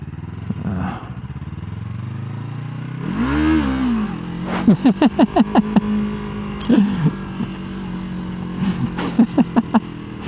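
A Yamaha MT-03 motorcycle engine idles, then revs in one rising, falling sweep, followed by a string of sharp, loud mechanical pops and clatters close by.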